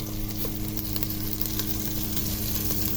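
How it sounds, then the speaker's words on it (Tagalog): Pork pieces fry in hot oil in a pan for tinola, giving a dense, continuous sizzle with faint crackles and stirring noises close up, without any talking. "pinrito muna natin ang baboy hanggang magkaroon ng ganyang texture"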